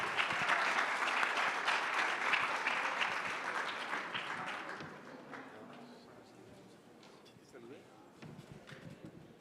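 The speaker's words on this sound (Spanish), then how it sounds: "Les pido un aplauso, por favor, para este panel" Audience applause for a panel of experts at a livestock production practices forum, loud and dense at first, then thinning and fading over the second half as scattered claps continue.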